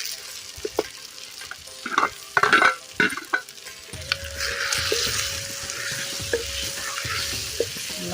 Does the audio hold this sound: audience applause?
no